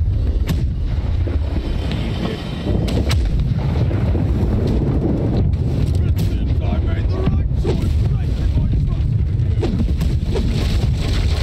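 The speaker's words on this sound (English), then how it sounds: "Ready the port side! Let's ready to fire at the cruiser." Ship cannons in the naval game Blackwake fire on a cruiser from the port side, with repeated heavy booms punching through constant wind and water rush, loud and close.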